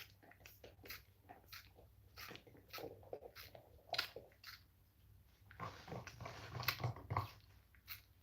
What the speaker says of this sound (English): She's trying to chew that bar. She's trying to destroy it.